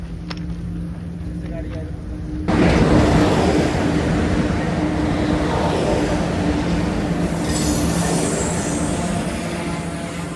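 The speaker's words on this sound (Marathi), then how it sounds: "अजून एक ट्रेन आलेले आहे." A train rumbles past near a railway tunnel on the line at Khopoli near Lonavla. The sound swells suddenly into a loud, sustained broadband roar that carries on to the end, with voices now and then.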